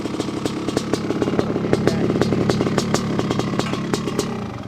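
A loud, close 1995 Honda CR500R motocross engine revs hard, its raspy two-stroke roar pulsing rapidly and holding high throughout.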